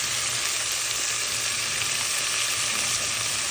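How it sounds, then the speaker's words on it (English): Seasonings for Guyanese kitcherie, including green seasoning, cilantro, saffron and cook-up rice seasoning, fry in a pot with a steady, close, bright sizzle that holds constant throughout. "I'm just gonna fry up now"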